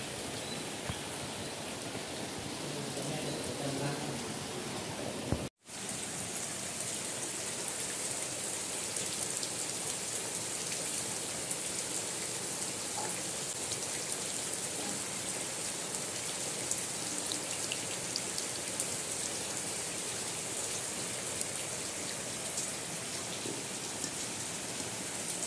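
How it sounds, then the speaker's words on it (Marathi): Heavy, steady downpour in a Konkan village at midday, a dense continuous hiss of rain on surfaces running throughout, broken only by a brief cut near the start. "दुपारचे 1 वाजलाय आणि कोकणात पाऊस"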